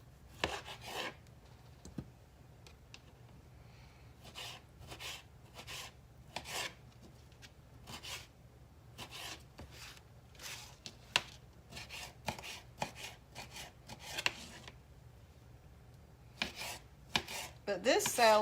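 A knife cuts a large Roma tomato on a board for a low-carb summer salad. Sharp, irregular chops sound close and crisp, separated by short quiet gaps and thumping against the board, with no talking.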